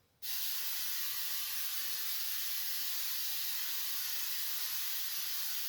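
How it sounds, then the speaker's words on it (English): A loud, steady hiss of aerosol cooking spray into a pan starts abruptly and continues unbroken for several seconds, close by and with no other sounds. "we're going to spray this a lot of in here"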